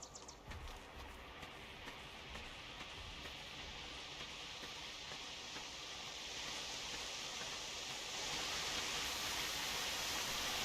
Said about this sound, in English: We can hear the sound of a waterfall.